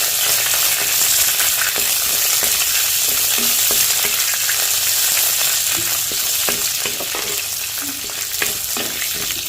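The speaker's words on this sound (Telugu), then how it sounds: "పచ్చిమిరపకాయలు వేసామండి" Green chilies fry in hot oil in a pan, giving a loud, continuous crackling sizzle throughout, with scattered pops and light stirring scrapes.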